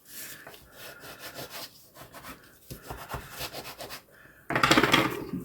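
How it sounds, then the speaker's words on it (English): Close, rhythmic rubbing strokes as a paper fold on a handmade card is burnished down, repeated back-and-forth scrapes with short pauses, ending in a louder, harsher rasp. "I like to burnish this down."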